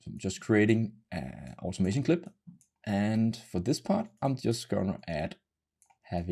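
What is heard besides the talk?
No distinct noise like a dog, phone or traffic.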